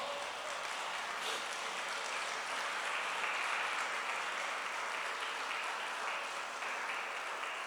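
A church congregation applauds during a sermon, a continuous, diffuse roar of clapping filling the room evenly and slightly distant, with no voices rising above it.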